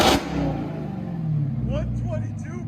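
A 2020 Dodge Charger Hellcat with its 6.2L supercharged V8 and Flowmaster dual exhaust revs loud and close, the low roar falling away after a sharp blip, with excited voices talking over it.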